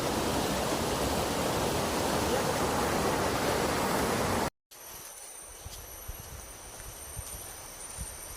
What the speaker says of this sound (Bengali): ঝর্ণার শব্দ আমরা শুনতে পাচ্ছি।